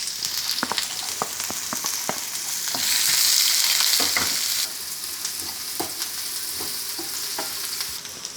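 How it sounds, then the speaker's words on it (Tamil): Onions frying in hot oil with popped mustard seeds in a pan for bitter gourd fry, a steady close sizzle broken by sharp clicks of stirring, with a brief louder hiss midway. "கடுகு பொரிஞ்ச உடனே வெங்காயம் போடணும்."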